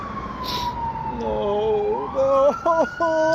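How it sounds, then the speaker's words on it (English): Wailing sirens rise in the distance, one sliding tone joined by others that warble and grow louder, with faint background noise. "you can hear sirens approaching"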